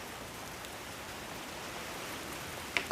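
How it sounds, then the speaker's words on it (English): Steady rain hisses evenly, a soft continuous patter with a couple of faint clicks near the end. "even though I love the sound of that rain"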